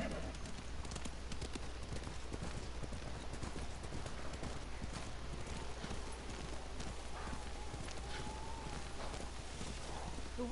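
Horse hooves clip-clop steadily through snowy terrain in the video game Ghost of Tsushima, a continuous walking rhythm beneath game ambience and wind, with characters talking over it.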